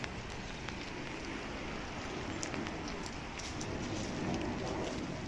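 Rain falls steadily in a small town near Paris, a constant broadband hiss with faint scattered drips, moderately soft and unbroken, with no talking.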